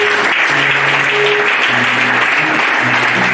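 A church congregation applauds, a dense and steady wash of clapping from many hands, loud and sustained throughout, with faint voices mixed in.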